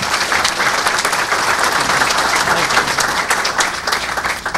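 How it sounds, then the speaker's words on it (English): A lunchtime audience gives dense, sustained applause as Lieutenant Governor Jay Dardenne is introduced as guest speaker. The clapping is loud and continuous and fills the room, easing off slightly near the end. "let's give a round of applause for our guest speaker, Jay Dardenne."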